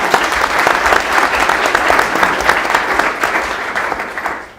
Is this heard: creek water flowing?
no